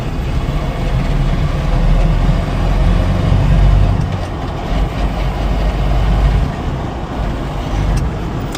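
Nissan 720 pickup truck driving on the road, a steady, loud low engine and road rumble running throughout with a slight dip partway, no voices.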